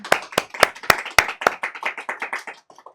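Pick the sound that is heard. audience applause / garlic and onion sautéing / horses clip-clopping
audience applause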